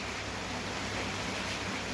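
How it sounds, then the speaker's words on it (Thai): Rain falls outside on a cold evening as a steady, soft, even hiss with no voices. "ฝนมันตกข้างนอกกันหนาว"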